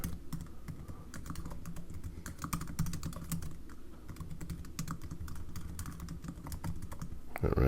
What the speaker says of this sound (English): I'm going to go down here real quick and just type in some rubbish words here.